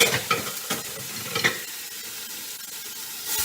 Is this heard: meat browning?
yes